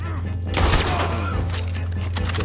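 Gunfire in a video game: a loud burst of rapid shots with a sharp crack near the start, then scattered further shots under voices talking.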